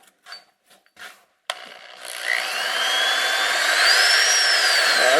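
A few light knocks give way to a power drill spinning up to a steady whine that rises in pitch as it hones the engine lifter bores, close and alone.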